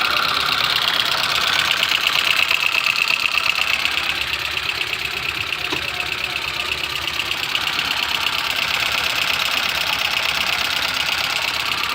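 A Tata Ace Gold BS6 engine idles steadily after oil has been wiped from its belt. The close, even running has a fine rapid ticking rhythm and no talk over it.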